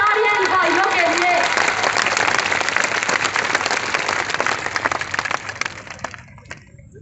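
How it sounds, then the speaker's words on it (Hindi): Loud, enthusiastic applause from a crowd at a political speech rally, clapping densely at first with a voice briefly audible early on, then thinning out and fading toward the end. "जोरदार तालियां भाइयों के लिए।"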